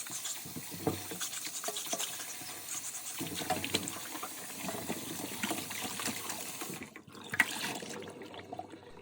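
Green plantains are rinsed under running tap water, a steady close splashing and trickling that continues throughout, with a brief dip in the flow near the end.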